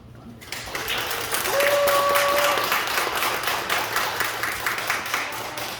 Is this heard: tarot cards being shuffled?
no